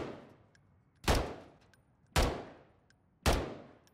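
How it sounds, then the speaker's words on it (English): Holger 556 fitted with the double-barrel JAK Backsaw kit firing in MW3, with three loud, sharp blasts spaced about a second apart. Each shot is followed by a decaying tail, and nobody talks. "it's going to be able to shoot two bullets at once with every trigger press"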